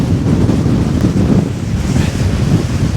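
Strong stormy wind buffets the microphone on a beach during bass fishing, a loud continuous roar mixed with crashing surf and no letup.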